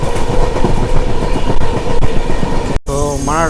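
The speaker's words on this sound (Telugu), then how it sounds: "సో మన ట్రైన్ వచ్చేసి నెల్లూరుకి అయితే వచ్చేసింది." Jan Shatabdi Express train running into Nellore station, with a loud, steady rumble and rail clatter that cuts out briefly near the end, then returns with a tonal sound and a voice.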